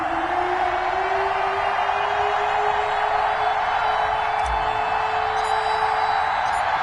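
A stadium crowd roars in an EA Sports NFL game before a Los Angeles Rams versus Seattle Seahawks matchup, a loud, constant wash of cheering with a steady tone running beneath it.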